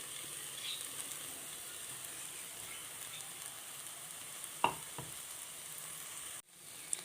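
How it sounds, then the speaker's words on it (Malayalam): Spice paste of ground chili, coriander and turmeric frying in a pan for an okra curry, a quiet steady sizzle with a couple of brief stirring clicks near the end. "ഇത് ചേർത്ത് ഒന്ന് മൂപ്പിച്ചെടുക്കണം"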